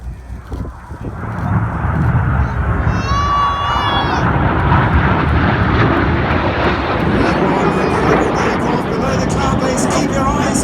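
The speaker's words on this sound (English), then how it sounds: "They're the two aircraft with the coloured smoke changing to white as they pitch up on the left and right." Red Arrows jets at an airshow in New York, pitching up trailing coloured smoke, give a loud, continuous jet roar that swells and holds steady throughout, with a brief whistling engine tone partway through.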